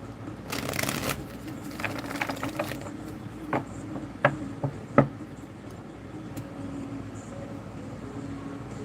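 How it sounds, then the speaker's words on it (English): A deck of tarot cards is shuffled close by, a quick riffling flurry in the first few seconds followed by a few sharp taps and softer shuffles, then quiet. "I just want to shuffle this 3 times."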